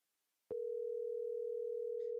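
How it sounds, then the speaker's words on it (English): After a click, a single steady electronic tone sounds continuously, like a phone line tone, quiet and close, ending with a faint noise. "Oh, it's ringing. Can you guys hear it?"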